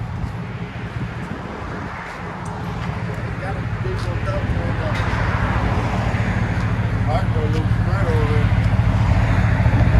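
A Chevy Tahoe with a 5.3L V8 idles through an aftermarket muffler, a steady, deep exhaust rumble that swells slightly louder over time, with faint voices in the background.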